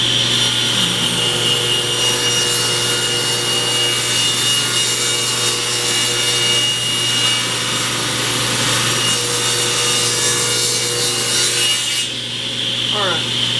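A power saw rips steadily through a board of spalted pecan wood, producing a loud, continuous, close rasping whine that holds for over twelve seconds before easing off, with no voices.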